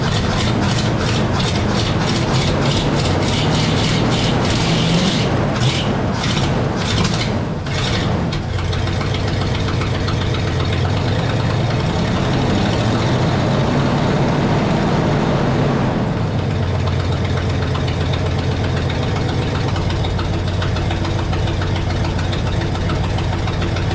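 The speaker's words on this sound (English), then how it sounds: "We're definitely not idling on all 8, but it is idling." A Pontiac LeMans V8 idles roughly, not firing on all cylinders, with an uneven, lumpy rumble and a loose exhaust flutter from an exhaust leak, running continuously and fairly loud.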